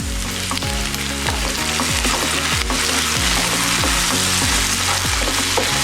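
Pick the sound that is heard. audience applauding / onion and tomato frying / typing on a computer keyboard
onion and tomato frying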